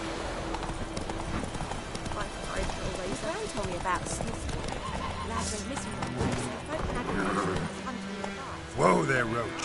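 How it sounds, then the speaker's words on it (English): The horse Roach in The Witcher 3: Wild Hunt trots with steady hoof clip-clops and lets out a neigh near the end, under game dialogue. "Whoa there, Roach."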